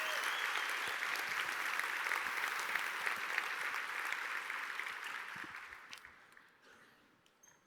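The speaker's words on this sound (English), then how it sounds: "please join me in giving a huge round of applause to the Clio product team" At the opening keynote of the 2018 Clio Cloud Conference, a large audience applauds the product team with loud, sustained clapping that holds for several seconds, then thins and fades to a few scattered claps and near silence.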